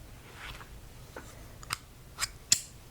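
A few crisp, sparse snips of small scissors, spaced irregularly and growing sharper, over a faint quiet background.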